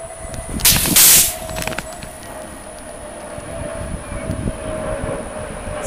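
A Quest Aerospace water rocket launches at about 80 psi with a sharp, loud whoosh and burst of spray that lasts about half a second, followed by steady outdoor background noise.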